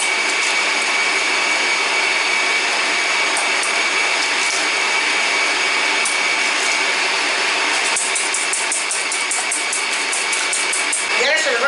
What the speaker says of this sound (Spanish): Vamos a batir los tres huevos.